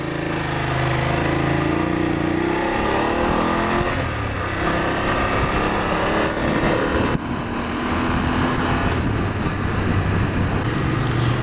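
A BMW F750GS motorcycle engine on a test ride, a steady loud drone with shifting pitch under heavy wind rush, holding continuously throughout with brief dips as the revs change.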